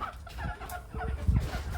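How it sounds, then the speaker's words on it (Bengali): Desi laying hens kept apart in a pen, giving soft clucks and low murmuring calls, close by and continuous over a brief moment with no talking. "এই যে এই হলো মুরগি"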